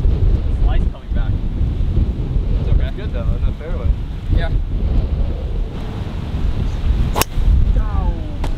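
Strong wind buffets the microphone on a golf course during a four-man scramble tournament, a loud, continuous low roar that swells and dips, with faint voices briefly surfacing underneath.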